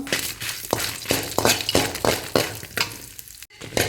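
Chana dal and urad dal frying in oil in a pan for Udupi-style chitranna, a close, crackling sizzle with regular scraping stirs about every third of a second, no voices.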